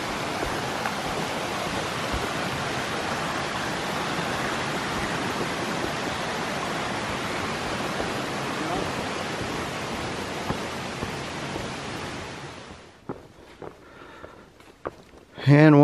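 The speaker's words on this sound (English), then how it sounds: "we got a nice little stream we're walking next to now" A small stream runs beside an Appalachian Trail footpath, giving a steady, close rushing wash of water that holds even for most of the stretch before dropping away into quieter rustling and a brief louder sound at the end.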